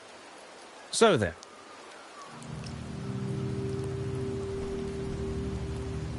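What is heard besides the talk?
rain falling in Septimont, from the video game Wuthering Waves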